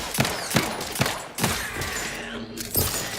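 Rapid gunfire in The Outer Worlds 2 video game, with a handful of close, punchy shots in a quick uneven rhythm, separated by brief ringing tails and faint background game noise.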